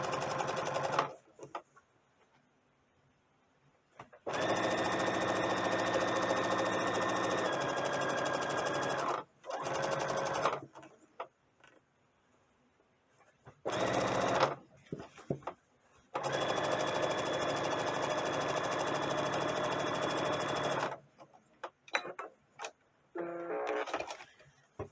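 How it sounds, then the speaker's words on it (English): A sewing machine runs a straight seam along the hem of an heirloom Easter dress, joining two pieces of fabric. It is close and steady, in several long bursts separated by short pauses, with no talking. "I'm just going to sew straight and connect those 2 pieces together"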